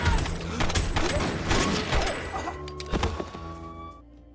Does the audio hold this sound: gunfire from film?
yes